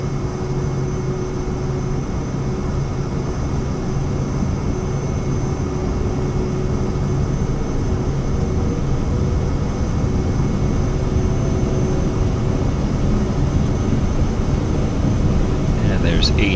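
Cirrus Vision Jet engine spooling up to full takeoff power in Microsoft Flight Simulator, a steady, even cockpit roar with a faint tonal whine that holds loud throughout.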